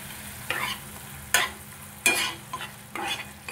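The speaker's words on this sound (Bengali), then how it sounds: "মশলাটা খুব ভালোভাবে কষাবো" Spice masala with turmeric and split green chillies fries for a pumpkin curry, a low steady sizzle punctuated by four or five distinct scraping stirs of a spatula across the pan, close and unaccompanied by speech.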